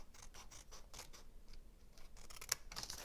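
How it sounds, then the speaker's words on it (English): Scissors cut away excess paper around a stamped card in a series of quiet, close snips and crisp cutting strokes, with no voices. "take your scissors, and you're going to cut the excess"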